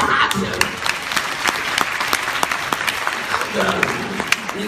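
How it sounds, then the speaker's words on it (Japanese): An audience at a Universal Studios Japan stage show claps for itself, dense sustained applause close and loud, with a few cheering voices mixed in throughout. "自分自身で拍手"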